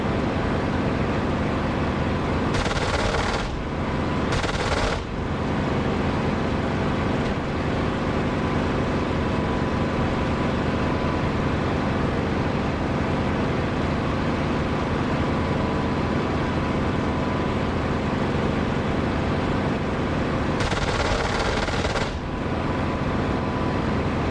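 Aircraft cannon fire in the DCS flight simulator game, a few brief loud bursts under a constant heavy engine roar, two close together early and one longer burst near the end.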